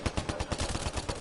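Rapid automatic gunfire in a PS4 video game, a steady, loud stream of close bursts, about eight shots each second, with no speech.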